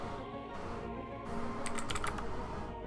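Quiet clicking of a computer keyboard, a brief flurry of keystrokes near the middle over faint background hum, with no speech.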